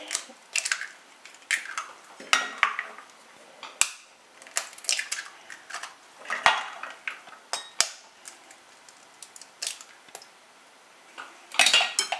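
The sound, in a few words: cracking six whole eggs into a bowl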